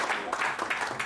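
An audience claps at a leadership event in Casablanca, Morocco, as German partners are welcomed, giving a short stretch of steady, moderately loud applause in a hall.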